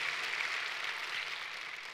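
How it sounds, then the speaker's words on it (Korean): Church congregation applauding the choir after a Sunday service hymn, a brief, fairly quiet patter of many hands clapping that fades slightly toward the end. "박수 한번 좀 쳐주시기 바랍니다."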